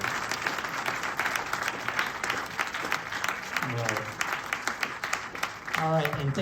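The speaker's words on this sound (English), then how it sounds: "Let's have another round of applause for Jazz Fresno and all that they're doing to promote the music" Audience applause at a library jazz concert, a steady wash of clapping from a seated crowd, moderately loud, with voices briefly rising near the end.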